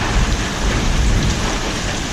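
Heavy rain pours down steadily with rumbling thunder during a severe hailstorm, heard from indoors as a loud, dense, unbroken roar with no talking.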